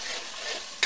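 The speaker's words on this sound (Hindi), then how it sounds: "इसे हम ठीक से फ्राई कर रहे हैं ताकि इससे कच्चापन मसाले का निकल जाए" Mixed vegetables cooking in masala in a pan, a steady soft sizzle for under a second, ending in a brief sharper scrape or stir.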